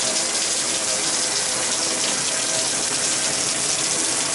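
Hot water gushes steadily from a bathtub tap at good pressure, a loud, close, continuous broadband rush with no pauses and no talking.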